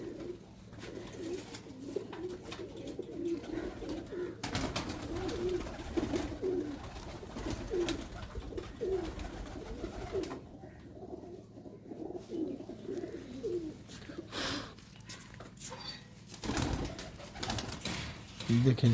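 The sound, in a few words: pigeons cooing at a loft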